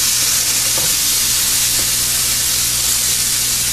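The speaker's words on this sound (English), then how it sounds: "I'm gonna saute an onion." An onion sautéing in butter for a simple dal gives a steady, even sizzle and hiss throughout, close and fairly loud, with a couple of faint clinks under it and no voices.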